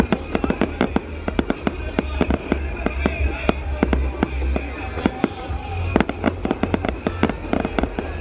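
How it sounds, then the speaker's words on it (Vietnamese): New Year fireworks over Yen Bai, a dense barrage of sharp, loud bangs and crackling bursts in irregular rapid succession, with a continuous low rumble and faint crowd noise beneath. "pháo nổ luôn."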